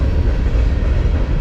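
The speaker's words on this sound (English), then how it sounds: "I might as well do the intro here while the train's going by" Train cars rumbling steadily past close by, upriver of the Falmouth boat launch on a high river in Lancaster County, a loud continuous rolling roar with faint rail clatter and no talk.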